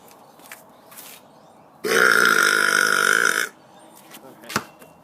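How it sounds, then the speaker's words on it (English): One long, loud burp rolls on for well over a second, close and harsh, with faint background sounds and quiet voices before and after it. "I owe you 1 extra burp."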